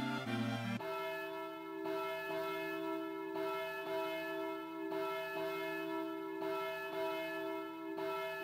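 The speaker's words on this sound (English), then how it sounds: "let me toll the wedding bells" Wedding bells tolling in the video game Harvest Moon DS Cute, a chime struck roughly once per second with sustained ringing tones, clear and moderately quiet, following a brief jingle at the start, with no voices.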